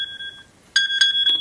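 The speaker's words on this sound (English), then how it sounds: "it will play that tone for 2 minutes to get someone's attention" The Find My iPhone lost-phone alert plays on an iPhone, a loud, piercing electronic tone that holds steadily and then pulses in bright repeated bursts, with no voices.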